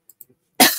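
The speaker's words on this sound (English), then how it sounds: "Sorry, I'm going to cough." A single close, loud human cough, sharp at onset and trailing off, preceded by a few faint small mouth clicks.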